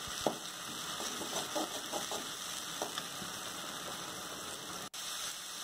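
Curry leaves saute in hot oil with a quiet, continuous sizzle. Small crackles and pops are scattered over a low background hum.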